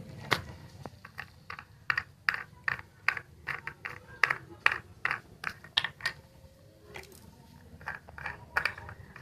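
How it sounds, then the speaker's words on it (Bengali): A child tightens a nut onto a toy bolt, giving a quick run of small plastic clicks and ratcheting taps close up, fairly quiet, with light talk in the background. "দেখি কেমন করে নাটটা আঁটে দেখি।"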